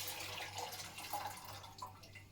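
Water drains from jars of zucchini being home-canned with chili ketchup, giving a faint, steady trickle and pour with small splashes close by.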